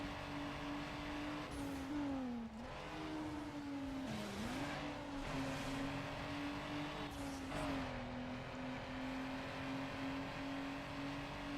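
A four-wheel-drive, front-engine racing car in Need For Speed Underground holds a steady, loud engine drone, dipping and rising with gear changes and brief tire squeals, with no talk.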